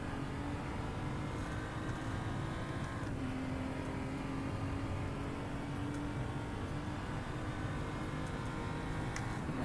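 A BMW M235i Racing car driving at medium speed around Sepang circuit, its engine a continuous steady drone with shifting pitch, heard from onboard with no talk.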